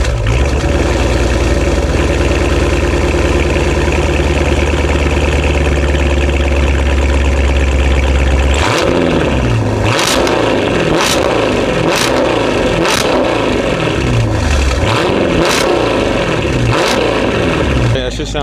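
A widebody Dodge Charger police-style car with a Valvetronic exhaust idles with a deep steady rumble. It then fires into a series of sharp revs, each a loud rising roar, with someone talking over the engine.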